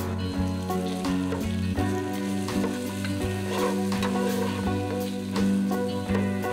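Ginger and cumin paste frying in a pan with cardamom, cinnamon and bay leaf, a continuous sizzle under a steady music bed, with faint scraping as it is stirred.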